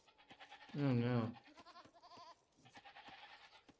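Sheep bleating in the video game Age of Empires 2, one loud wavering bleat lasting about half a second, followed by fainter game sounds and a second, softer bleat-like call.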